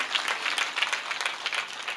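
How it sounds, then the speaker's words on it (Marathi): Audience applause at a Marathi devotional kirtan discourse: a steady, dense wash of many hands clapping for the full two seconds, fairly close and even in loudness, with no voices over it. "जोरात टाळ्या वाजवा, टाळ्या कमी पडत आहेत तुमच्या."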